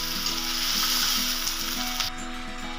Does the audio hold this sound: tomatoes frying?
yes